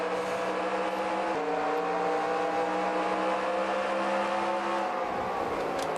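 Race cars roaring around an oval in the NASCAR Racing 2003 video game, a constant loud engine drone with shifting pitch as cars run close together, no speech.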